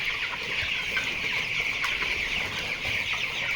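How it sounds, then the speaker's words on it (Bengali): A large flock of about 820 twenty-day-old chickens on a poultry farm clucks continuously, many overlapping calls forming a steady, busy chatter with no voices. "আমার মুরগির বয়স বিশ দিন চলতেছে"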